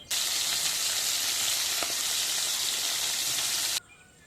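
Spice masala of ginger, cumin, chilli and garlic fries in a pan for a stingray curry, a dense, loud, steady sizzle close up that stops abruptly near the end.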